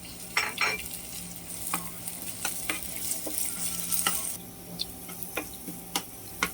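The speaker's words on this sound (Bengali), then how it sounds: "এখন আদা রসুন কাঁচামরিচ বাটা এই দুটা দিয়ে ভাজবো আবার" Ginger, garlic and green chili paste fries in oil, a soft, continuous sizzle broken by repeated scraping clicks of a spoon stirring against the pan, fairly quiet and close with no talking.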